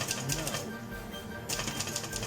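A typewriter typing a letter: quick bursts of sharp mechanical key strikes, paused briefly in the middle, close and fairly loud, with someone talking over the clatter.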